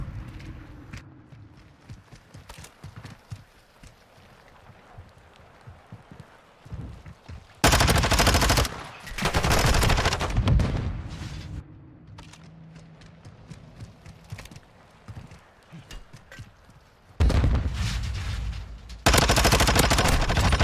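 Gunfire from the Call of Duty video game erupts in loud, dense automatic bursts around the middle and end, separated by quieter stretches of footsteps and clatter.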